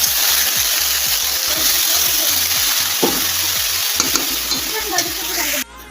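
Spatula steadily stirs and scrapes dhekishak greens with masoor dal, turmeric, salt and green chili as they fry in a pan, under a constant loud sizzle with brief knocks near the end.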